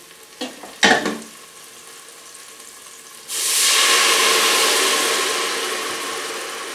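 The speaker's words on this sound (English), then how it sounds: "I'm just going to deglaze the pan with a little bit of red wine" Red wine poured into a hot pan for beef bourguignon erupts into a loud, sustained hiss and sizzle that slowly fades, after a couple of sharp clanks of utensils against the pan.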